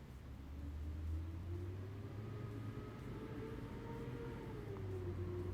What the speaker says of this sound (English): Now add eggs and beat them for 5 seconds.